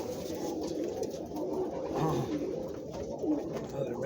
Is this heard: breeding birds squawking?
yes